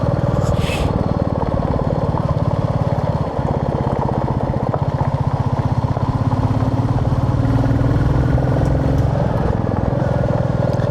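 Royal Enfield motorcycle engine running steadily at a low, even throb, loud and close, with a rhythmic pulsing beat throughout and a brief higher sound near the start.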